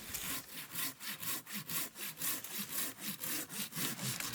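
Steady hand sawing through wood while felling trees for building a log raft, a regular back-and-forth rasp of about ten strokes heard close and clear with no talk.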